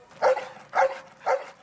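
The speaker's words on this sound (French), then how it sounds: "Dixon, le chien antidrogue, se met au travail." A police drug-detection dog barks three times at an even pace during a search, each bark loud and close with short pauses between them, and no voices are heard.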